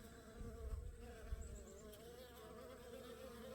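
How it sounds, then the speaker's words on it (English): Bees and a wasp buzz around a beehive in fall, a soft, steady drone of wings close by with a few brief higher whines, faint and free of talk. "that wasp is just walking around freely looking for a meal to bring home to its babies"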